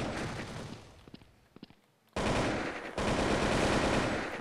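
Sustained bursts of AK rifle fire from the Blood Strike shooter game, a choppy stutter of shots, a brief lull, then two long, loud, dense automatic volleys close up.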